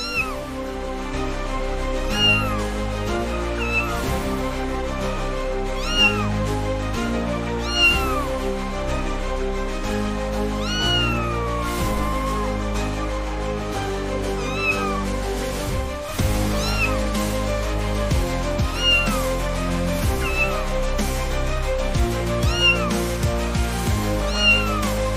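A cat meows repeatedly while firefighters work to free it from a vehicle, loud, insistent cries recurring every second or two over a steady, busy background hum.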